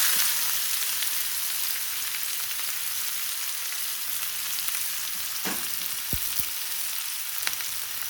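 Two large diced onions frying in oil with popping nigella seeds, a steady close sizzle with a few stirring scrapes and soft knocks, and no talking.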